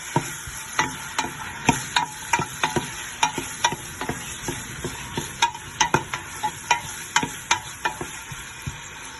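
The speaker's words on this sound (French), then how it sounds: "je vais faire rissoler les oignons avec l'huile" Onions sizzle in olive oil while a utensil stirs them briskly, producing a dense run of sharp scraping clicks over a constant hiss, close and without speech.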